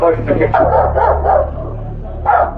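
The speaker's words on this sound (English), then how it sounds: "There's 2 dogs." Two dogs bark and yip close by in a repeated run of sharp barks, with a low engine hum underneath and a final burst of barking at the end.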